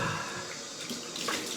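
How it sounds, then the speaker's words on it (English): Cold water runs from a tap during shaving, a continuous close splashing rush with slight variations in flow and no voices over it. "face. Cold water."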